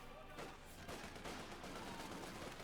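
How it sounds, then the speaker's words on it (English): Vickers K machine gun fire in Company of Heroes 2 sounds as a series of sharp, overlapping gunshot bursts, moderately loud, mixed with other battle noise. "It's Vickers K laying down some heavy fire."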